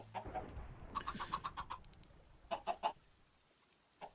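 Chickens cluck in a block-building video game, short bursts of several clucks with pauses between them, clear but fairly quiet.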